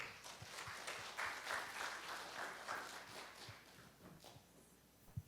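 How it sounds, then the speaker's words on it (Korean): Audience applause in a university lecture hall, a steady patter of clapping from a seated crowd that swells briefly, then thins out and fades toward the end. "자, 박수."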